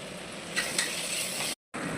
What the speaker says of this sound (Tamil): இப்போ வந்து பார்த்தீங்கன்னா கொத்தமல்லி புதினா போடுவோம்.